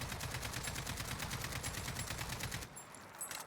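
AK-47 automatic fire in the Modern Warfare version of the Warzone video game: one rapid, evenly spaced burst of shots lasting about two and a half seconds, then a quieter tail after the firing stops.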